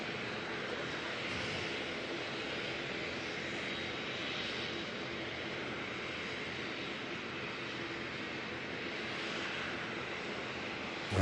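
An ATR turboprop aircraft departs at night, its broad engine roar holding steady and loud across the whole stretch without any voices over it.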